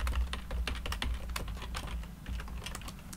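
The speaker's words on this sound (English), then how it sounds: "let's type in some network statements here" Rapid, irregular keystrokes clatter on a computer keyboard as network statements are typed for a BGP router lab, close and steady with a low hum underneath.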